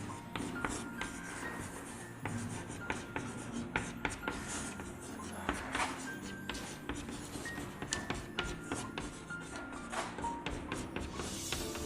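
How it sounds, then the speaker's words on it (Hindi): Chalk or marker scratching out a sentence on a classroom board in short strokes and taps, close and fairly quiet, with faint room noise between strokes. "चलो इसके नीचे एक और सेंटेंस लिखता हूं"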